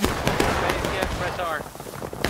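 Civil War reenactors fire a musket volley, a burst of overlapping sharp cracks at a distance, with shouted commands around it.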